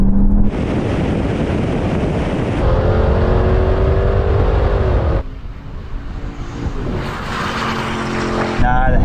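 Porsche 718 Cayman and Audi TT RS accelerating hard in a rolling race from 50 mph, loud rising engine notes with audible gear changes mixed with heavy wind rush, recorded from inside a moving car.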